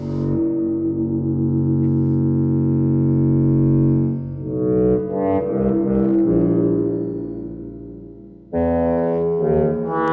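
Sustained modular synthesizer tones with spring reverb drone and glide between pitches, thick with harmonics, a bright cluster swelling midway before a sudden new tone returns.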